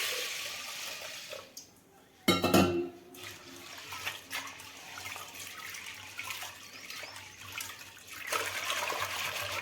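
Dal being rinsed by hand in water before cooking, a loud burst of sloshing and splashing near the start, then steady softer swishing and trickling water close by with no talk.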